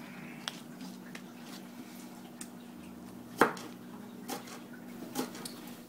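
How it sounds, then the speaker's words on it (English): A knife chops spring onion on a chopping board in a home kitchen, giving a few sparse, sharp taps spaced irregularly over a low steady hum. One louder knock stands out midway. "we need to chop our spring onion"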